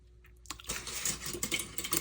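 Quick snips and rustles of scissors or a blade cutting through packing paper being trimmed apart for a journal insert, a close, busy burst of crisp paper sounds after a brief quiet start.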